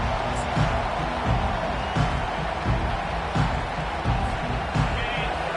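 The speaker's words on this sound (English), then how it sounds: "This crowd bringing the energy and noise early" A stadium crowd roars steadily in the NCAA 25 football video game, a dense wall of cheering and noise with faint rhythmic swells and no clear talk over it.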